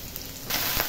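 Chopped onion drops into lightly heated mustard oil in a pan, a brief quiet hiss that jumps into a loud, bright sizzle partway through, heard up close without speech.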